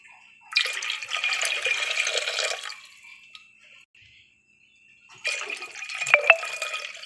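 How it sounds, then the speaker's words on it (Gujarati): Glasses of water are poured into a pot for dal in two separate bursts, each a close, splashing gush lasting a couple of seconds, with a quiet pause between them. "हवे आपणे पाणी नाखीए। 2-3 ग्लास पाणी नाखीशुं।"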